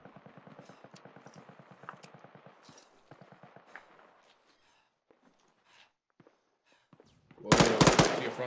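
Sustained machine gun fire in ArmA 3: rapid, evenly spaced bursts rattle for a few seconds, trail off into scattered faint shots, then a sudden loud, close burst erupts near the end.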